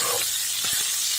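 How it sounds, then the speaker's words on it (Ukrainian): Garlic sizzles in hot oil as it fries for octopus soup, a steady bright hiss filling the clip, close and fairly loud, with a brief low thump midway and no talk. "Почався процес обжарювання."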